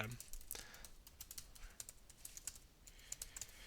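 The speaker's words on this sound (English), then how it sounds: "So what I'm going to do here is I'm just going to type mine in." Steady typing on a computer keyboard while filling out a publisher application form: quick, uneven runs of light clicking keystrokes, close and fairly quiet, with no voice.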